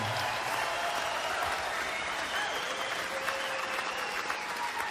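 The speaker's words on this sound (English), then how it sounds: "Yeah, no, you don't have to clap" A comedy club crowd at a stand-up show claps steadily, a dense, even wash of applause that holds at one level throughout, with no voices on top.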